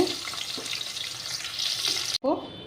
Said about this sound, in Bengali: দেখো, আমার আলুটা ভাজা হচ্ছে।